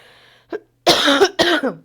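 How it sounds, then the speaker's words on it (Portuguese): A person coughs up close, a small throat sound followed by two loud harsh coughs in quick succession, stubborn and rough. "Uma tosse bem teimosa, bem difícil de ir embora"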